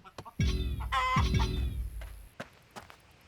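Chickens cluck in the video game Contraband Police, a few loud, close bursts of squawking with short pauses between calls, followed by faint clicks.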